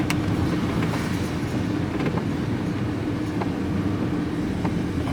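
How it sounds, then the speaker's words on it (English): Aluminium bicycle wheels in the front of a moving scrap truck rattle steadily under a loud, dense road rumble, with faint metallic clatters spread across the clip. "We've got some aluminium bicycle wheels in the front here, which is what you can hear rattling."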